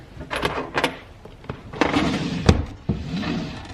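Old wooden drawers inside a historic inn under restoration are pulled open, a series of close, loud knocks, scrapes and thumps spread across a few seconds, with no talking.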